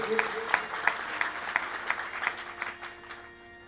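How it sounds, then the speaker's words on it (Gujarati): A seated audience at a Gujarati devotional bhajan programme claps in honour of Rakeshbhai, scattered rhythmic claps building into steady applause before tapering off. "રાકેશભાઈને પણ જોરદાર તાળીઓથી સન્માન કરીએ."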